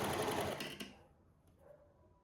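A sewing machine runs a narrow hem stitch on muslin fabric, a steady mechanical whir heard up close for about a second before it stops and fades into quiet.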